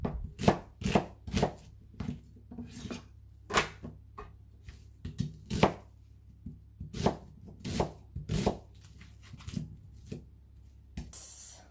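Knife chopping an onion on a cutting board for butternut squash soup, sharp close thuds that come in quick irregular bursts with brief pauses between them, with no talking.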